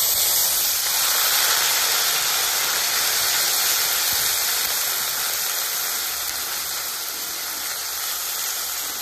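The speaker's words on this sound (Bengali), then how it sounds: "জিরেটা একটু ভেজে নেব। এর মধ্যে দিয়ে দেবো আদা আর গোলমরিচ বাটা।" Cumin seeds, ginger and black pepper paste fry in hot oil in a pan, producing a loud, steady, close sizzling hiss that holds unbroken throughout with no talk.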